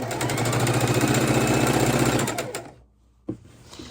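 A sewing machine runs a quilt seam on precut fabric blocks, a loud, fast rhythmic whir that slows and stops, followed by a single soft knock.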